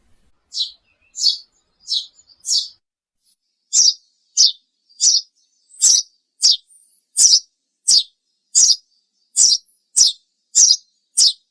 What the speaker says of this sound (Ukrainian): Горобець це осілий зимуючий птах.